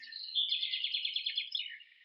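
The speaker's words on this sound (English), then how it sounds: "Now I hear birds chirping." A small bird chirps a rapid, high-pitched trill of notes for about two seconds, clear and fairly close against a silent background.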